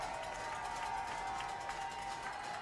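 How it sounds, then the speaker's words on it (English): Steady crowd din at a high school playoff football game, Sussex Hamilton hosting Arrowhead, a continuous wash of cheering and noise filling the stands for the whole moment with no clear breaks. "crowd making racket here at Sussex"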